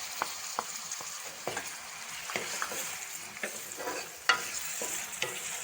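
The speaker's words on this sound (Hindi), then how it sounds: "टमाटरों को अच्छी तरह से भून लेंगे जब तक ये अच्छी तरह से गल ना जाए" Chopped tomatoes fry with ginger and garlic in a pan for a restaurant-style daal chana. A steady soft sizzle continues throughout, with the occasional scrape and clink of a spoon stirring, and no one speaks.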